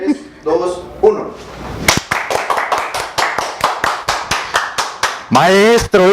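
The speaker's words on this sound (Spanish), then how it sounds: "Aplaudimos." Studio audience on the Mexican TV music show Así Suena México claps in a steady, rhythmic beat of sharp, even hand claps, with singing before it and a voice speaking at the end.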